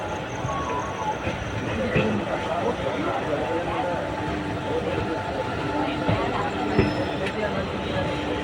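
A train locomotive stands idling at Tirunelveli Junction at night, its engine giving a continuous low rumble beneath station noise as someone speaks nearby.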